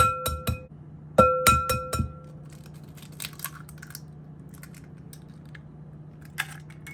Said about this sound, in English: And now I'll crack open 2 eggs and add the eggs to the